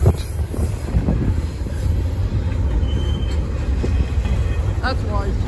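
A train rolls past on rails close by, a steady loud rumble and clatter of wagons with brief wheel squeals near the end.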